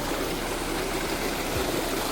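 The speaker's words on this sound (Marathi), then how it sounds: "ह्या तळ्यातनं जा पाणी येतं त्या दोन पाईपमधनं एवढा असा पडता" Water pours steadily out of a pond through two pipes with a continuous rushing, splashing noise, close and constant throughout, with no voices.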